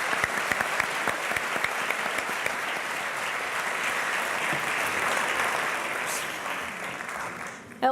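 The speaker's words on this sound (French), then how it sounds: "Ariane et Jean-Pierre, on les applaudit." An audience applauds Ariane and Jean-Pierre at a live broadcast celebrating ten years of Réseau Entreprendre Bretagne; steady, dense clapping runs for about eight seconds and fades slightly near the end.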